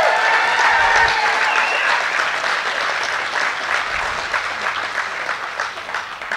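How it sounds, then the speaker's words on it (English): Rally crowd at an outdoor Patriots' Day gathering in the Flathead Valley clapping hands, loud sustained applause that gradually thins and fades, with faint voices mixed in. "If you're glad you live in the Flathead Valley,"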